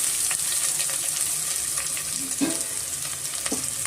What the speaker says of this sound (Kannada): ಈರುಳ್ಳಿ ಚೆನ್ನಾಗಿ ನಾವು ಫ್ರೈ ಮಾಡ್ಕೊಬೇಕಾಗುತ್ತೆ